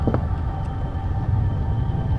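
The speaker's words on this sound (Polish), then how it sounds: "Znowu się tego wiatraka wystraszyłem trochę." A windmill fan in the horror game Penumbra churns with a loud, steady low rumble and a faint mechanical hum, constant through the short stretch, with a brief knock near the start and no talking.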